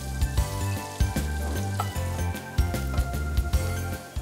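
Chopped garlic hits hot oil and butter in a pan, hissing under a busy clatter of clinks and scrapes from utensils, with steady music-like tonal hum running throughout.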